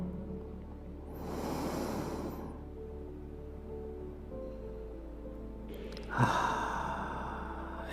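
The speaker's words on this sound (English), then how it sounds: "And another inhale." Two long, deep breaths during a guided breathing exercise: a slow airy inhale, a pause, then a second breath rushing in more sharply, close and quiet over a low steady hum.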